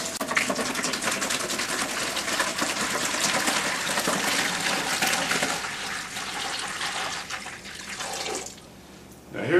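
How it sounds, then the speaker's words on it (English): A gallon of water poured from a jug into a bucket, a steady, close rushing splash that runs almost unbroken for about eight seconds before tapering off near the end. "I've got a gallon jug here of water, so I know that this is a gallon, and I pour this into my bucket."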